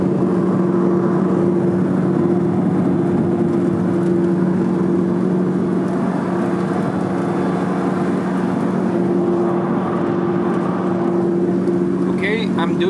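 Freshly built Lamborghini twin turbo engine idling during running-in, a steady loud droning hum with a constant low tone throughout, unchanged for the whole stretch.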